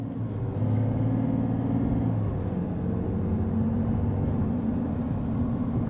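A Chevrolet Colorado ZR2 pickup with a 3.0 Duramax diesel accelerates normally, heard from inside as a steady, smooth low engine drone with road rumble, rising gently over several seconds.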